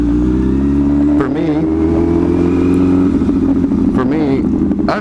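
A performance motorcycle being ridden, its engine droning loud and close with a shift in pitch partway through as it revs, accompanied by wind and clatter.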